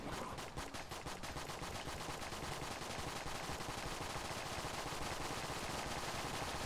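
Rapid, sustained gunfire from a weapon in the Enter the Gungeon video game, a dense unbroken stream of shots holding steady and loud for several seconds with no voices.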